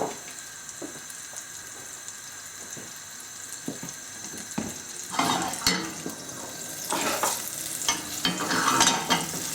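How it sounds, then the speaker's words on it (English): Butter melting in a frying pan with a little oil while a low-protein omelette is made, a quiet crackle that grows into a busier, louder sizzle with sharp pops and spatters, close up and without voices. "Add another tiny bit of butter. Wait till that melts."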